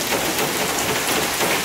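Heavy rain pours onto a house in Lebanon, a loud, dense, continuous hiss of drops striking the roof and surfaces nearby, with no talking.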